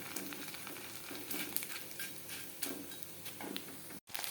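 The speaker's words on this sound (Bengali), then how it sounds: "এই যে চিকেন পকোড়াগুলো ভাজা বসিয়ে দিয়েছি, একদম বড় বড় করেই ভাজলাম আমি।" Chicken pakoras deep-fry in oil with a continuous bubbling crackle and sizzle, close and fairly quiet, with a brief dropout near the end.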